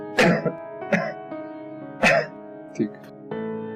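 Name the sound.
person coughing during a doctor's chest examination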